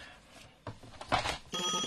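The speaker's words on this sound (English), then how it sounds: "I think somebody's ringing me." A telephone rings in a short burst of trilling electronic tones, close and clear, the last ring sustained at the end.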